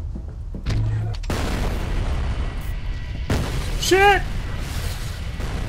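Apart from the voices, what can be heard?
explosions in the video game F.E.A.R. Perseus Mandate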